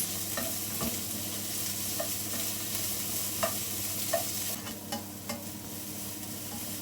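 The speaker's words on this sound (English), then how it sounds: "I'm going to use the same pan to fry these onions" Onions frying in a pan, a constant close sizzle with light intermittent scrapes and taps as they are stirred, steady and fairly quiet with no voices.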